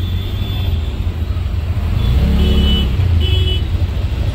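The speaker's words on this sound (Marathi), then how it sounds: "इथे मानपाड्याला पोहोचतोय आणि खूप ट्रॅफिक आहे, बघू शकता." Heavy road traffic at Manpada, with a dense, loud, constant rumble of car engines close by and a few short horn toots breaking through.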